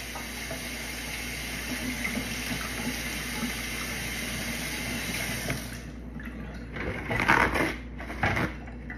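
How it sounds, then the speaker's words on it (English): Running water rinses sticky apple cinnamon bread dough from hands, a steady hiss and splash that grows louder and more broken in the last few seconds, with no talking. "so go ahead and rinse your hands off."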